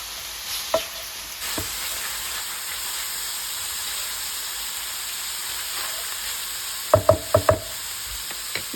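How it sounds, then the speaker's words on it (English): Ground beef sizzles softly in a pan while a spatula breaks it up, with a few quick scraping clicks clustered near the end against a faint steady hiss. "I'm just gonna keep crumbling the beef as it cooks."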